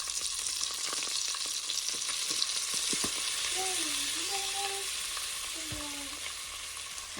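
Garlic and a little curry powder fry in a small amount of butter in a pot for Jamaican curry shrimp, giving a steady, even sizzle throughout with a few faint tonal clinks and brief background sounds.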